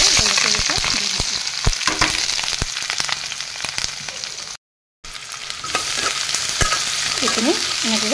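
Onion, garlic and green chillies sizzle and fry in a hot wok, with steady loud crackling and occasional stirring scrapes throughout, briefly cut to silence partway.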